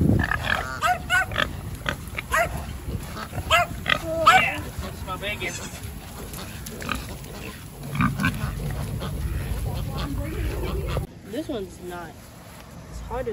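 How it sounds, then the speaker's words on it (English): Baby pigs on a farm oink and squeal close by, in short repeated bursts, while people talk over them much of the time. "We come to see the baby pigs."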